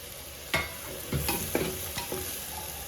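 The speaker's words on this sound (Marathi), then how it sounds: "हे आता खोबरं आहे ना मी तेलामध्ये टाकते" Grated coconut being stirred into hot oil for a spicy mutton dish, a steady close sizzle broken by several sharp scraping stirs of a spoon against the pan.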